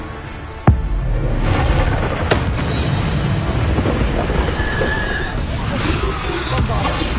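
Bombarda spell blasting in the video game Hogwarts Legacy, a sharp loud bang followed by a rumbling, crackling explosion and busy combat noise, with a voice speaking over it.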